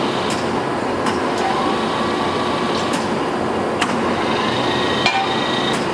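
Large Ticino sliding bed gap lathe with its carriage running in rapid traverse, a steady loud mechanical drone and whir with a few faint clanks, close by and with no voices.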